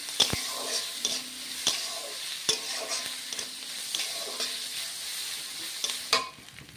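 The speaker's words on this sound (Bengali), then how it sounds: "ভালো করে ভাজা ভাজা করে" Shankar fish curry ingredients, vegetables and ginger paste, frying in a pan: a continuous close sizzle broken by regular spoon scrapes and knocks as the mix is stirred, with no voices.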